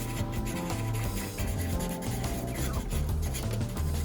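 Steady rubbing and scraping as old paint is sanded off a plastic shift-surround panel from an Alfa Romeo 159, continuous and close with slight rhythmic strokes, no talking.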